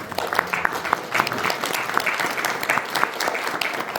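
Audience at a county commissioner candidate night applauds a Republican primary candidate, a steady round of many hands clapping with sharp individual claps standing out, fairly close and continuous.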